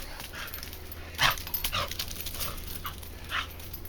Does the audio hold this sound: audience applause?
no